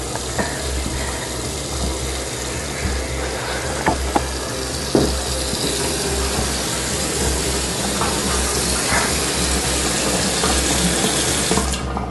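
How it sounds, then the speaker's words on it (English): A water tap in a house comes on by itself and runs steadily for about twelve seconds. It makes a continuous rushing flow over low background hum, with a few faint knocks, and no one speaks. "the water just turned on."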